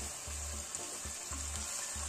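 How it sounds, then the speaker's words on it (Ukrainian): Onion frying with meat in a kazan while cooking pilaf, a steady close sizzle with faint scraping stir sounds and low rhythmic thumps beneath, no talk. "І там цибуля буде смажитися до тих пір, доки вона не стане золотистого кольору."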